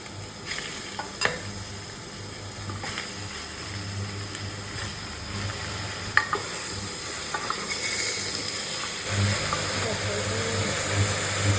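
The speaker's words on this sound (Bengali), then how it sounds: "এবার দেখো আমি চিকেনটা অ্যাড করছি।" Chicken pieces sizzle and hiss steadily as they are lightly fried in a pan for a zero-oil chicken soup, with a few sharp clicks of a spatula scraping the pan up close.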